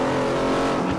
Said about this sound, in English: it was a rally car, but I don't have rally tires on it